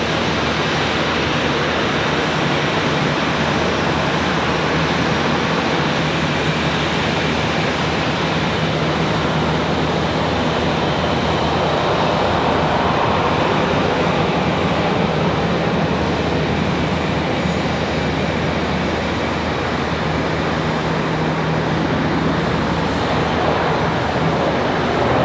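A Boeing 717 jet takes off at Charlotte Douglas airport, a steady broadband engine roar that holds at even, fairly loud strength throughout with no voices.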